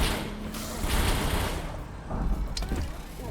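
Rapid mechanical clicks and pops of gunfire in the video game SCUM, in irregular bursts over a busy background, with faint voices.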